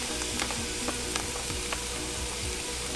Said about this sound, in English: I'm just going to use this to saute our aru, because it takes a little longer to cook this vegetable mainly.